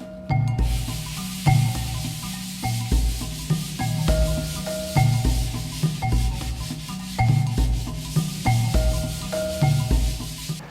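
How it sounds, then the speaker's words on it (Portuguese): Red 150-grit sandpaper for filler rubbed across a wall in steady back-and-forth strokes, a loud, close, rhythmic rasping scrape with brief pauses between passes, no talking. "eu vou usar uma lixa para massa, que é a lixa vermelha, com uma gramatura 150"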